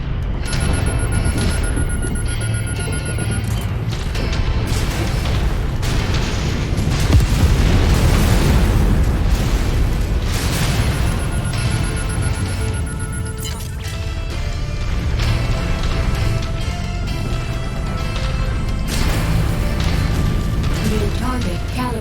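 A mech blowing up in MechWarrior 5: Mercenaries, heard as a loud, sustained roaring rumble with a heavier boom in the middle, amid mechanical clanks and other game sounds.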